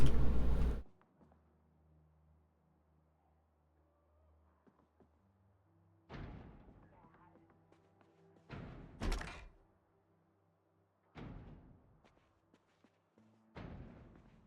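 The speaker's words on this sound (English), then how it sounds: "I hear zombies banging on the door." Zombies in a survival video game thump heavily on a door in a short burst at the start, then in spaced, single or double knocks against near silence.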